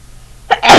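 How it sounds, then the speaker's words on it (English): A single loud, close sneeze with a short intake burst followed by the explosive release, after near silence. "I'm about to sneeze, possibly."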